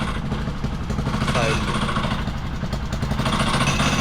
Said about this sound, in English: that's the lowest I can get it to tick over without the clutch engaging